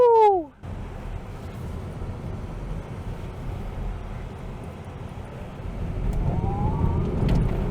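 A Lucid electric car accelerating hard from 0 to 60 in 3.5 seconds, with a rising electric motor whine over a loud, steady roar of road and wind noise that builds toward the end.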